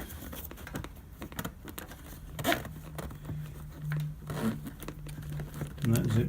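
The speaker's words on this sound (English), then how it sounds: "And that zips right up." A tank bag on a Ducati Supersport motorcycle is zipped closed in short raspy pulls mixed with fabric crinkling and rustling, close by, with a low hum in the background.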